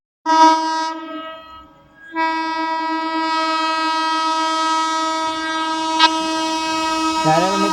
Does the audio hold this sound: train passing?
yes